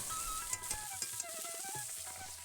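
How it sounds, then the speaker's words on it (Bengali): Cauliflower sizzles gently and continuously in a pan, with a few light taps of a utensil against it. "ফুলকপিটা মাথায় তরকারি করব সেটা একটু হালকা করে ভেজে নিচ্ছে"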